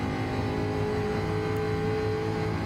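Gr.4 race car engine in Gran Turismo 7 at Road Atlanta, held at a steady high drone with tonal harmonics while running down the straight, continuous and alone without talk.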